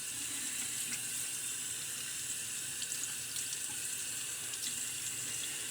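Water runs steadily from a bathroom tap while a razor is rinsed, a continuous hissing splash at moderate level with faint clinks, close by and without speech.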